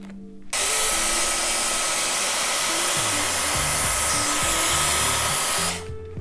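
A Dyson Airwrap hair styler blows air in a loud steady whoosh that starts abruptly, holds for about five seconds with a shifting low motor tone, then cuts off, heard up close.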